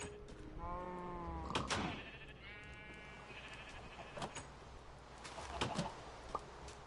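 Sheep bleating on a farm in a PS4 video game, two or three clear wavering bleats at moderate volume over a faint ambient background, with a few sharp knocks between them.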